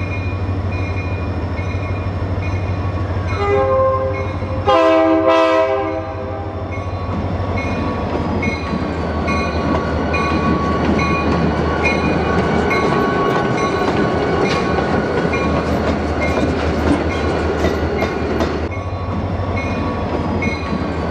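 Great Northern 325, a rare SDP40 diesel locomotive, rumbles past close by with a loud horn blast early on, then a long steady roar of engine and rolling railcars with rhythmic wheel clatter.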